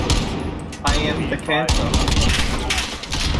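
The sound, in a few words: gunfire in a video game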